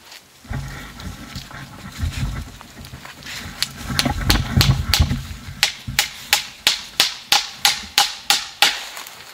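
A small nail is hammered into a large tree in the Komi wilderness, first with softer irregular taps, then a run of about a dozen sharp, evenly spaced strikes, loud and close.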